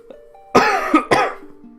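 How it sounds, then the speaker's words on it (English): Several sharp coughs in a row, close and loud, with a pause after the first and two heavier bursts in under a second; faint tones hum quietly before and after. "I do apologise, I'm going to be coughing a bit as well."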